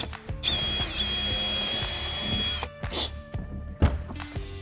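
A power drill bores holes through the trunk material of a BMW F82 M4 Competition, a steady close whine for a couple of seconds, then stopping with short clunks and brief bursts.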